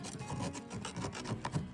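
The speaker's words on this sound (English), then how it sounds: "let's scrape the edges around there" Mini pot bread baked on a braai has its edges scraped inside the tin, making a quick series of rough, rhythmic rasping strokes at close range.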